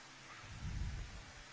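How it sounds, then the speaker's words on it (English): Distant thunder during a lawn bowls rookie pairs match, a faint low rumble swelling briefly in the middle over quiet outdoor ambience. "You can hear the thunder now, Andrew."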